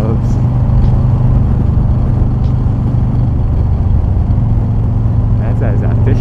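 A Harley-Davidson motorcycle ridden along mountain roads toward Crystal Lake Campground in Azusa, a continuous low engine rumble with wind and road noise, steady and close throughout.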